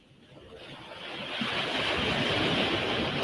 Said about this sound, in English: I think the microphone is picking up the waves.